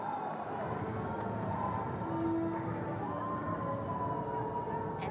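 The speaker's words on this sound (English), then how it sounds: "And listen to that crowd!" Football stadium crowd roaring steadily at a Philippines Football League match between Kaya FC Iloilo and Dynamic Herb Cebu FC, a dense, continuous wash of cheering with a few shrill whistles rising over it.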